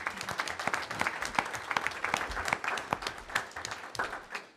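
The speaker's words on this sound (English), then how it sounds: "Round of applause for Jillian." Applause breaks out for a student honored for making all-state honors chorus at a board of education meeting, a moderately sized group clapping in a dense, uneven patter that fades slightly toward the end.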